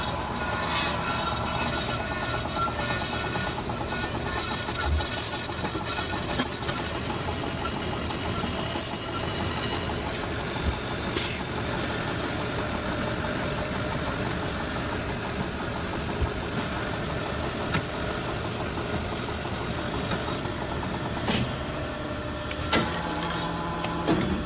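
A Tormach or HAAS CNC mill cuts parts held in a Mitee Bite fixture, giving a steady machine drone with a faint rhythmic texture and a few sharp ticks, continuous for the whole stretch, with no talking.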